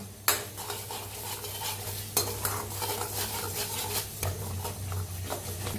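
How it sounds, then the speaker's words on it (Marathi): Curry leaves stirred and roasted in a pan with spices for kat vada, a spoon scraping repeatedly over a steady close sizzle, with a few sharper clinks of utensil against the pan. "कढीपत्ता हलवून भाजूया आपण"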